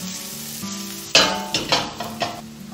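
Prawns hit hot oil in a pan with a sharp burst of sizzling, then several more crackling surges as they are stirred, loud and close over a faint steady background hum.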